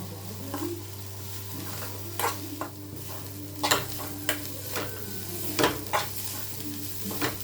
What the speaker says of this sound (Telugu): ఇప్పుడైతే పసుపు, కారం, ఉప్పు వేసుకొని బాగా ఫ్రై చేసుకోవాలి.